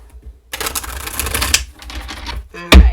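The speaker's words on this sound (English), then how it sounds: "Let's do a little shuffle" A deck of tarot cards is shuffled by hand, giving a dense, papery riffling that runs for about two seconds. It ends in a brief, sharp tap as the cards settle.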